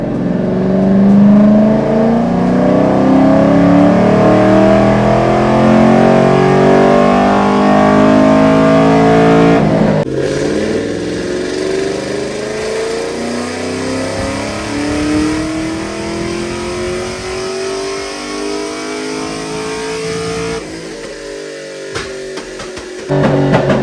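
An LS3-powered Camaro with a BTR Stage 3 cam, running on E85, pulls hard on a dyno in third gear; the engine roar climbs steadily in pitch, drops at a shift, then climbs again before backing off, loud and close.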